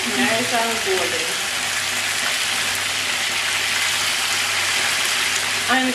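Sliced fish frying golden in a pan gives a loud, continuous hissing sizzle, with brief bursts of talk at the very start and end.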